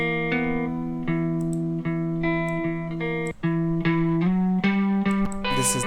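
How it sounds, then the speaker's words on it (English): Electric guitar stem in a band mix, processed with reverb and effects: sustained chords ring through steady, near and loud with rhythmic changes, alone with no talking. "This is the sound of other guitar."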